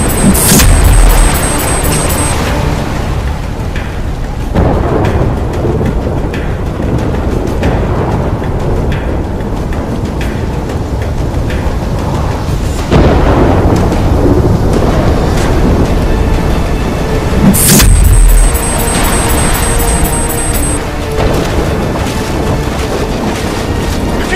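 A superstorm in Call of Duty: Black Ops III, heavy roaring wind and rain with deep rumbling booms and surging waves, loud and continuous, with sharp electronic chirps at the start and again near the end.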